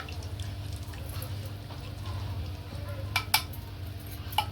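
Split mustard seeds and asafoetida being stirred into oil for a raw mango pickle, with a few sharp utensil clinks near the end over a steady low background hum.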